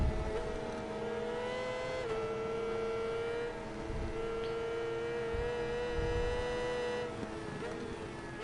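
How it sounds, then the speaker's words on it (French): A racing car engine drones steadily, rising and falling slightly in pitch as it revs, sustained and fairly close throughout. "Je vous laisse avec un petit peu le bruit du moteur."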